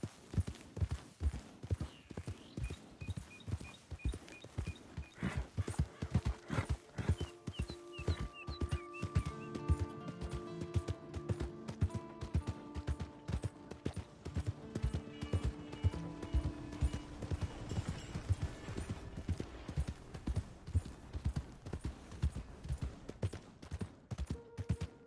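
Steady rhythmic hoofbeats of a galloping horse in Red Dead, continuous clip-clop over background music, with a brief whinny.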